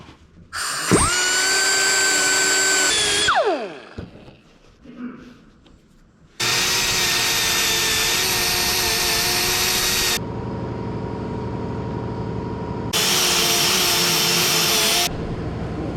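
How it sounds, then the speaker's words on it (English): A small sanding disc on a power tool grinds down the edge of a part so a grommet will fit on a Bronco, with loud, steady high-pitched whining bursts separated by brief pauses and lower tool noise. "we're gonna try just a little sanding disc"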